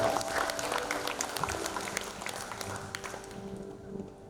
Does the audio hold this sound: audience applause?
yes